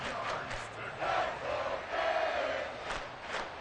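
A football stadium crowd roars loudly and continuously, a dense wash of voices with shouts swelling and surging throughout, with no commentary over it.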